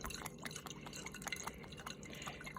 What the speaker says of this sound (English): Here I'm watering the soil.